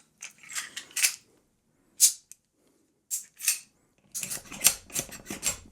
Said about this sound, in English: So now I just got to put the gun back together.